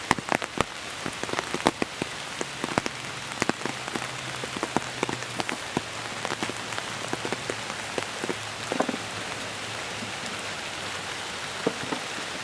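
Rain pattering steadily onto a beehive's inner lid and boxes outdoors, dense scattered drops with occasional sharper taps, continuous and moderately close.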